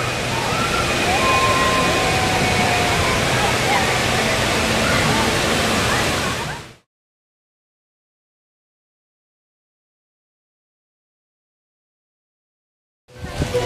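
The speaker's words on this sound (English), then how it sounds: "Beautiful waterfall." A waterfall at Gilroy Gardens theme park roars close by as a loud, dense, steady rush of falling water, cutting off abruptly into silence halfway through before returning briefly at the end.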